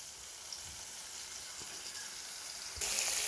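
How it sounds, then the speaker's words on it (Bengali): Spice paste fries in oil in a pan for a pointed gourd curry, giving a soft, steady sizzle close by that grows slightly louder near the end. "আমি মশলাটা কষিয়ে নিচ্ছি।"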